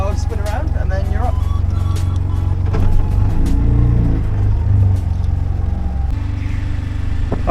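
A tuk-tuk engine chugs steadily in first gear, a loud low rumble running the whole time with no pause, while people talk over it.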